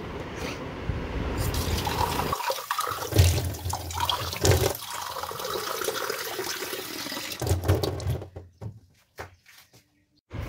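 Tap water running into containers for drinking and cooking, a loud gushing stream that stops and restarts several times, with clunks as vessels are handled and a quiet pause near the end.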